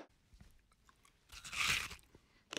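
Kurkure Chili Chatka crunchy snack being bitten and chewed outdoors, a few soft crunches building to one loud, close crunch burst near the middle and another at the end.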